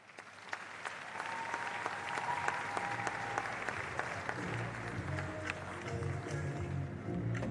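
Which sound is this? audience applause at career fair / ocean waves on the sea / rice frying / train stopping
audience applause at career fair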